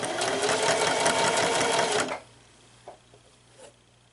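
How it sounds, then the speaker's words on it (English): Sewing machine stitching teddy bear fabric around a curve, a steady fast whirring motor buzz for two seconds that stops abruptly, followed by a few faint clicks as the fabric is pivoted. "Let's go with the needle down. Pivot around the curve."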